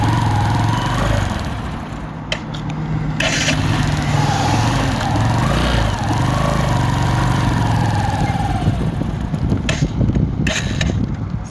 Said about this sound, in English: Sio kama unasikia hiyo motorbike yangu ni kama iko na some problems